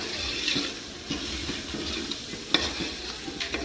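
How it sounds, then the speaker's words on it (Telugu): Onion paste with bay leaves and caraway seeds frying in oil for a paneer curry, a steady close sizzle broken by scraping stirs at irregular moments, with no talking. "ఇలా మాడిపోకుండా గోల్డెన్ కలర్ వచ్చేదాకా తిప్పుతూ ఫ్రై చేసుకోవాలి."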